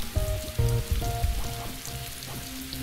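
Rain patters steadily in the Electronic Super Joy video game, a continuous wash of drops heard beneath the game's loud electronic music tones.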